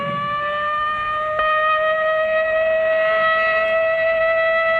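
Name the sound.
civil defense siren in old film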